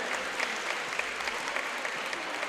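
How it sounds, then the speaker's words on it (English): Audience at a high school senior night event, set around a girls basketball game, applauds ROTC cadets with steady, dense clapping that holds throughout, fairly quiet and at a moderate distance, with no voices over it. "let's give these cadets a round of applause for all their hard work and dedication to this program"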